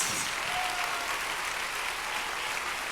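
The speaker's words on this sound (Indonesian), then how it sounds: "Kita berikan apresiasi tepuk tangan yang luar biasa malam hari untuk Bapak Evangelis Jim Yos" Church congregation applauding during an evening evangelist's service, steady dense clapping throughout, loud and close with no speech over it.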